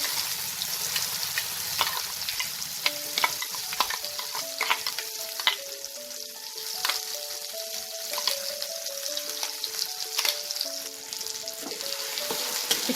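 Flat bean paste frying in oil while being stirred continuously: a constant sizzle with repeated scrapes and clicks of the spoon in the pan, plus faint tonal background music, no speech.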